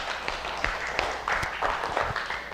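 Audience applause during an indoor gathering after an ice-breaking exercise, a modest crowd clapping steadily with voices mixed in.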